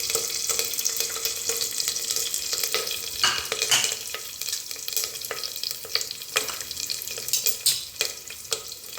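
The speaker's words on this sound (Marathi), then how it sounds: "थोडंसं गुलाबी होईपर्यंत परतून घेऊया." Onion and curry leaves sautéing in hot oil for a rice tempering, a steady bright sizzle with stirring scrapes of a spoon in the pan, close and continuous without talk.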